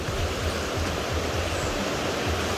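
A swollen river runs on a farm the day after a flood, a loud, continuous rushing wash of water that stays steady and close throughout, with no voices.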